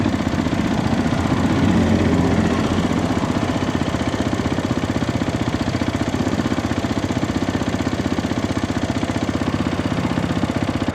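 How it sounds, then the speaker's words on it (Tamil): A Hero XPulse 210 motorcycle engine idles with a steady, rapid mechanical tappet ticking and knocking that runs continuously and evenly throughout. "இந்த வண்டியில் இந்த டேப் பண்ண நாய்ஸ் தான் ஒரு பெரிய தலைவலியாக இருக்குது"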